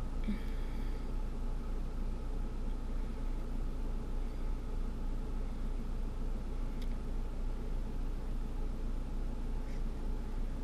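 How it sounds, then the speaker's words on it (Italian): Steady, low road rumble from inside a moving car, constant and unbroken throughout, with no talking. "sono in macchina ovviamente e andiamo."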